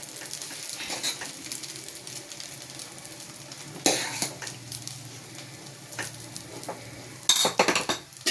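Cooked rice is stirred into a fried puliogare tamarind mix in a pan, giving a soft ongoing sizzle with intermittent louder scraping and clinking of a spoon against the pan.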